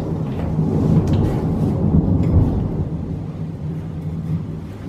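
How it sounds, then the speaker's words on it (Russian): Deep thunder rumbles continuously and loudly, a long rolling roar with no voices. "слышите, какой гром гремит?"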